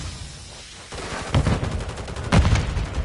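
Gunfire rattles in a military video game firefight: several bursts of rapid shots, the loudest cracks landing in two clustered volleys over steady background noise.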